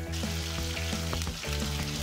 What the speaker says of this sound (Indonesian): Ikan dan belut terlebih dahulu kami masukkan ke dalam wajan yang minyaknya sudah memanas dan tunggu sampai matang.